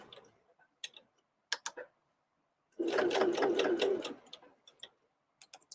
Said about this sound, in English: lift the foot, pivot, down. Here we go. And a back stitch.